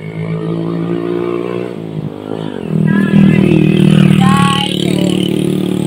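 A motorcycle engine revs and passes close by, rising in pitch and loudness, with a brief spoken word over it.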